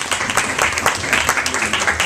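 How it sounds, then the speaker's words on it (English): Guests at a surprise 70th birthday party break into a short burst of close, lively clapping, with distinct rhythmic claps and some chatter mixed in. "give big round of applause"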